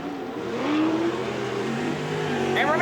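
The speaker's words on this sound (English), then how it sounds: "Big rev Trev" An offroad race car at a New Zealand national final revs hard, its engine note climbing and falling through gears at a moderate distance, while commentators talk over it.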